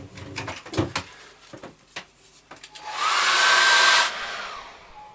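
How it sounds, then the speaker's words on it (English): A hair dryer blows on wet acrylic paint with a strong, steady hiss for about a second, after a run of soft tapping and handling noises. "we're going to dry that off with a hairdryer."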